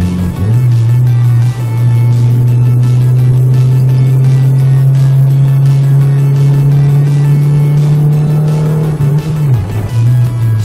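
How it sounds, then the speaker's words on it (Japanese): A car drives steadily along a road after a differential and transmission oil change, its engine holding a loud, even drone with tyre and road noise, the pitch dipping briefly near the end as it shifts or slows. "ではオイルが温まった状態でもう一度走行してみます"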